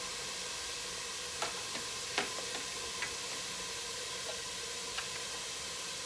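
Onion and garlic fry in a pan for bean tacos, giving a steady, fairly loud hiss of sizzling broken by a few sharp pops and ticks.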